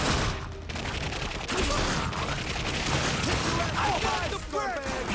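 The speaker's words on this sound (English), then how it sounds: "We're taking heavy fire!" Gunfire in the video game The Darkness 2, dense and continuous bursts of shooting with mechanical clatter and whizzing effects, close and loud, with game voices calling out over the din.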